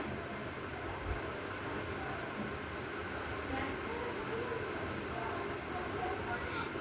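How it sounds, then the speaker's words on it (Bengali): Spice grinding mill machine grinding sun-dried spices, a steady loud mechanical whir and rumble running continuously throughout without a break. "এটা এবার একটু মশলাটাকে গুঁড়ো করে নিতে হবে মেশিনে"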